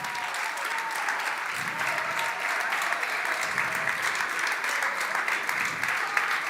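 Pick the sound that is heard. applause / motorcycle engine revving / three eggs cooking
applause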